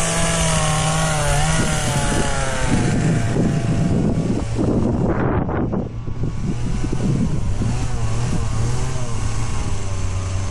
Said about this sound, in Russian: Женя решил сделать, чтобы работала пила